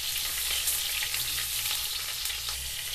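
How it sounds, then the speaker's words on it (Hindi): Pointed gourd (parwal) pieces frying in hot oil, a steady close sizzle with occasional stirring scrapes, continuous throughout and no voices. "परवल फ्राई हो रहा है"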